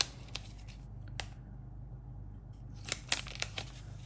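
A sheet of paper in a planner rips in short, crisp tearing bursts, quiet and close, with a gap of near silence before a cluster of brisk rips toward the end.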